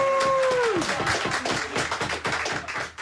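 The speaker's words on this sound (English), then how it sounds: "Wait for the applause" Scattered applause at an election count in Grimsby, close and fairly loud with distinct individual claps in an uneven rhythm, following a brief tone at the start and fading near the end.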